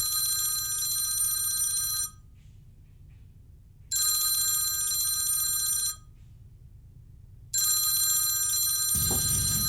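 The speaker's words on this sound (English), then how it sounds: "Could we get Phil on the phone, do you think" A telephone rings in three long electronic bursts separated by silent gaps while a call is placed, and a brief click comes at the very end.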